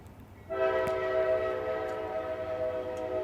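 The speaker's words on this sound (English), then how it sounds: "there goes a train" A train in the farming game Farming Simulator 22 sounds a long, steady horn that starts abruptly and holds loud and close over a low rumble of the passing cars.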